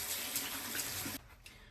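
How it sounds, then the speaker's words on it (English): Water runs steadily from a bathroom tap into a sink during handwashing, a close, full gush that cuts off abruptly partway through, leaving faint drips and quiet room tone. "But I'm gonna wash my hands right now."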